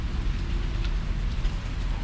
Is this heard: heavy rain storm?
yes